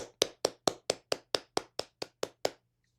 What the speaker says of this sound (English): I would like to give you a round of applause for that one.